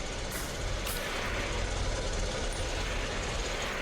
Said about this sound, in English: Relieved I was able to get this truck running